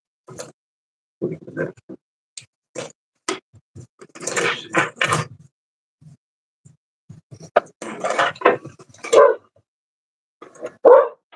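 A shop dog barks in a burst of repeated yaps and woofs, fairly close, with quieter gaps between bouts and a few short vocal sounds mixed in.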